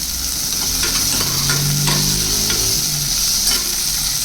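Tomato and onion frying in oil in a pan, a steady sizzle with scraping stir strokes repeating throughout, close and continuous with no voices.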